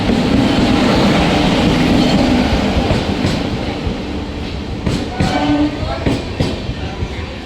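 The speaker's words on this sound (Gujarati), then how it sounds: "એક્સપ્રેસ ટ્રેન આવી ગઈ ને જો અમે નીકળી ગયા" An express train rumbles loudly and steadily close by, wheels clattering, then slows with occasional clanks and a brief squeal as it pulls into the station.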